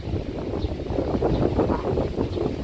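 Outdoor wind gusts against the microphone in a steady, close, low rumbling roar that swells slightly and continues throughout, with no voices.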